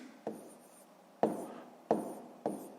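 Handwriting a maths exercise, four sharp pen taps and short scratchy strokes at uneven intervals, close and quiet, with no talk.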